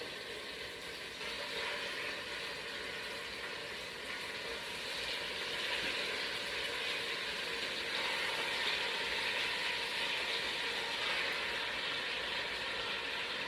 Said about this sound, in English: We'll stick these in there and brown. I want to hear that nice sizzle.